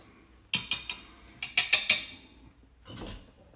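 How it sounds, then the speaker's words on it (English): Quick clinks of a whisk or utensil against a bowl while baking powder is mixed into flour, a short burst of several strikes, then a pause and a softer scrape near the end. "Whisk that together real quick."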